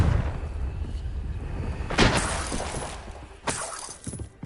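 Confringo spell blasts from a Harry Potter video game, sharp cracking explosive bursts with shattering debris, one strong hit followed by another, over a dense rumbling game soundscape.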